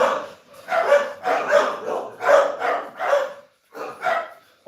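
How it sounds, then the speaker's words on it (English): Pet dogs at home bark excitedly in a string of loud, close woofs and yips, about six or seven barks spaced under a second apart with brief pauses. "as you can hear, my dogs are going ape shit"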